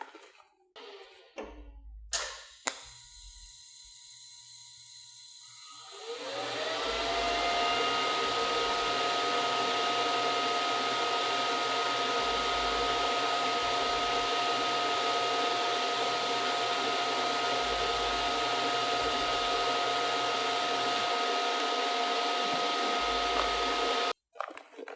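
A TIG welding torch arc starts after a few quiet seconds and then runs as a steady, even buzzing hiss with a constant high whine, continuing unbroken for most of the clip before cutting off abruptly.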